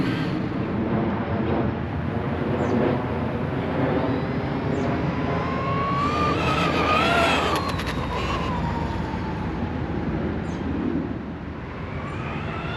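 A Traxxas Rustler 2WD VX3 RC car screams by at full throttle, its high electric motor whine rising and falling as it passes, over a steady rushing roar, no talking.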